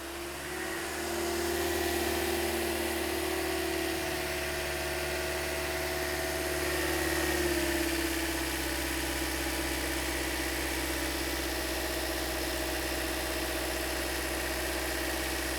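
A 2008-2013 Toyota Corolla engine runs at a raised speed of about 2000 RPM with a throttle stick holding it. A continuous, even droning hum stays steady with a slight shift in tone partway through, and nobody speaks.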